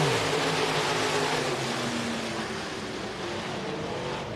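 A pack of IMCA dirt track race cars roars off on the green flag, engines loud and sustained as they accelerate together into the first turns.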